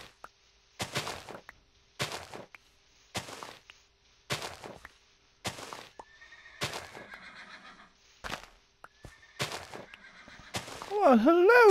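In the Minecraft video game, a series of sharp, evenly spaced clicks is followed by a loud, quavering horse whinny at the very end. Each sound is clear and separated by near silence.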